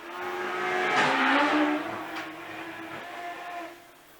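A race car at the Shelsley Walsh hill climb revs loudly and drifts past, its engine note rising and falling with a faint tyre scrub, heard alone and fairly close.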